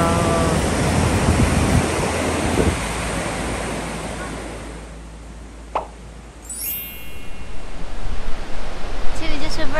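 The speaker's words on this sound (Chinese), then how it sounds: "是 Vernon 瀑布，" Vernal Fall in Yosemite, seen along a snowy trail, sends a broad, steady roar of falling water across the scene, loud at first and easing midway, with wind buffeting the microphone and a brief high chirp near the end.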